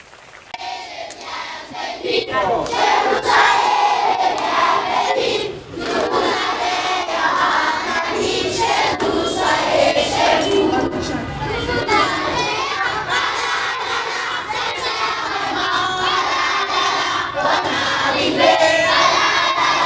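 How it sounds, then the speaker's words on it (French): A school crowd at the start of the new term cheers and shouts for the new headmistress, with loud, sustained excited voices and clapping mixed in throughout. "nous allons applaudir pour elle"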